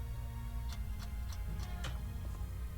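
Evenly spaced ticking from a clock in the video game Wallace & Gromit's Grand Adventures, five or six crisp ticks at a steady rhythm over a low background hum.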